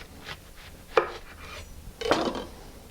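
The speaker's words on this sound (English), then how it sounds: "With a chef knife, cut the onion in half through the core." A chef knife cuts an onion in half through the core on a cutting board, with two distinct firm knocks of the blade against the board amid lighter slicing rubs, close and clear, no voices.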